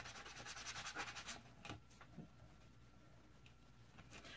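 Resin glitter gel pens being sanded by hand, a faint rhythmic rubbing scrape that fades after a second and a half into near-quiet with a few light touches.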